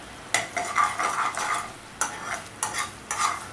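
Thick jaggery syrup bubbles on a stove for a modak filling, with a steady close sizzling hiss broken by several louder bursts of stirring and scraping in the pan.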